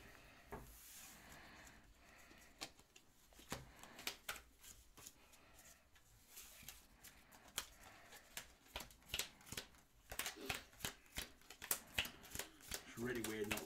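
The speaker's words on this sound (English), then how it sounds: "So we shuffle these together." Smash Up game cards shuffled together on a table, quick irregular sliding and flicking bursts that grow denser and louder toward the end, with people talking softly between them.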